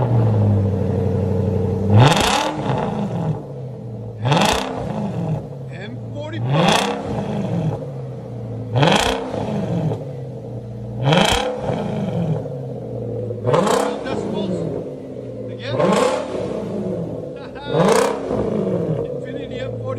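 A straight-piped V8 Infiniti M45 is revved hard about eight times in a regular rhythm, each sharp loud blip rising and falling back to a rumbling idle, close and very loud.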